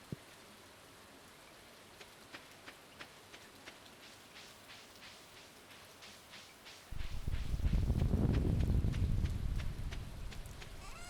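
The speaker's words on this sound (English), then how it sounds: "I love a nice rainy day in Stardew Valley." Rain in the video game Stardew Valley: steady, soft patter with regular footstep clicks that suddenly swells into a loud, dense downpour partway through, with no speech.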